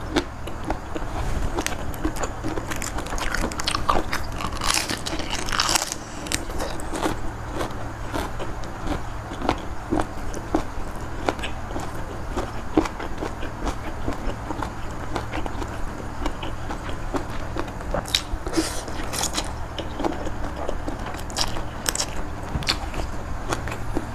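Someone eats spicy pounded squid salad up close, with continuous crunchy chewing and biting and occasional sharper crackles. The sound stays steady and moderately loud throughout.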